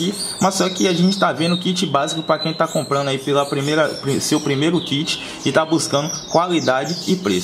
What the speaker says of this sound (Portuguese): vai desculpando o barulho de passarinho